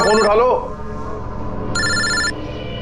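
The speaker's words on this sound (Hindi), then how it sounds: "कोई फोन क्यों नहीं उठाता? फोन उठा लो।" A telephone rings with bright trilling bursts, one at the start and another near the end, going unanswered, loud and close with a mid-pitched tone in between.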